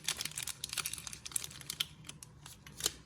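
A VERB caffeinated snack bar wrapper is cut and pulled open, giving quiet scattered crinkles, rustles and small clicks, close and faint, with no talk.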